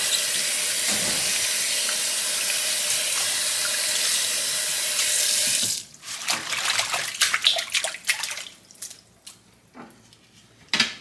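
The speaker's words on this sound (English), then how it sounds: "We are going to rinse our garlic greens." Garlic greens and Egyptian onions are rinsed under a running tap: a steady rushing stream for several seconds, then water stops and scattered drips, splashes and handling noises follow.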